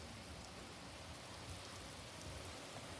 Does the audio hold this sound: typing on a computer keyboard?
no